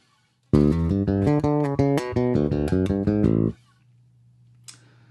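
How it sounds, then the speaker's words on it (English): A fingerstyle funk bass groove plays a steady run of punchy, syncopated sixteenth notes for about three seconds, then stops, leaving a low hum. "this week we're playing a fingerstyle funk groove"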